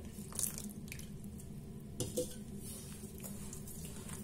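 Semolina galette dough for harcha being mixed by hand with cold milk poured in, giving soft wet squelching and dripping sounds at a low, steady level with a couple of brief louder splashes.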